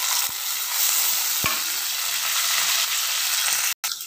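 Onions and green chillies frying in a pan make a loud, steady sizzle with a couple of sharp utensil taps and a brief cutoff near the end, with no talk.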